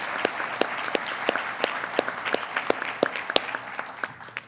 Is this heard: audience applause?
yes